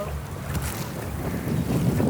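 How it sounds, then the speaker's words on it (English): Strong wind buffets the microphone on a trout stream float trip, a loud continuous rumbling roar with water washing underneath and no clear talk. "This wind, oh."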